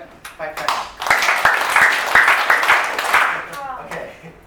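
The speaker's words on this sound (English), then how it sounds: "Everyone shows your left hand and right hand now. And clap 5 times." A classroom audience claps hands together in a dense, uneven burst, mixed with chatter and voices throughout.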